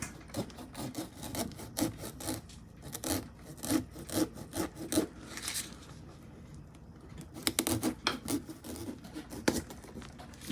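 A knife sawing at an angle through the top of a pumpkin, rhythmic rasping strokes in bursts with brief pauses, close and moderately loud, no voices.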